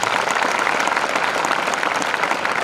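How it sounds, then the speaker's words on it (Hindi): A room of students bursts into steady, dense applause that holds evenly for a few seconds with no talking over it. "एक बार ताली बजनी चाहिए इसके लिए।"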